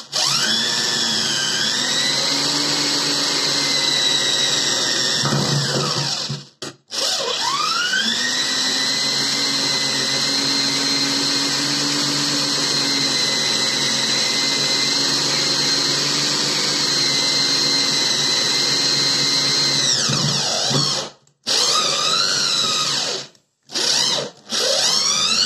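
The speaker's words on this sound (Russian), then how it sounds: "Начинает наворачивать второй саморез." Power drill driving a self-tapping screw into metal, a loud steady high-pitched whine that runs continuously with a couple of brief cutoffs and changes in pitch as the motor strains.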